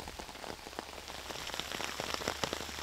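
Torrential rain pours down during a disc golf championship round in Texas, a dense continuous hiss of drops striking surfaces and water with scattered sharper splashes, steady and close throughout.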